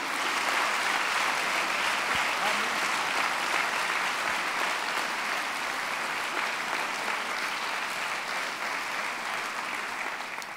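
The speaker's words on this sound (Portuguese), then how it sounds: "Aplauda o Senhor." A church congregation applauds steadily, a dense, even wash of clapping from many hands that holds at full strength for the whole stretch and tapers slightly at the end.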